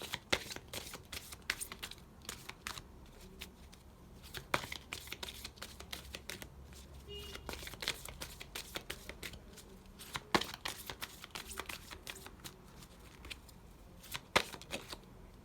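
Tarot cards are shuffled over and over in quick, crisp riffling bursts, close and fairly soft, with short pauses between rounds.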